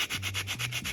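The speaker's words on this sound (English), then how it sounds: "I'm gonna go ahead now and add grate some nutmeg" Nutmeg is rasped against a grater for a spiced punch, giving about seven quick, even scraping strokes in a rapid rhythm, close and clear with no talk.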